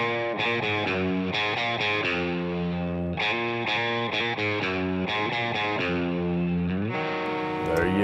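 Distorted electric guitar chords in a rock mix, played first as is and then again with a high-pass filter thinning the low end, rhythmic strummed phrases filling the clip with no talk.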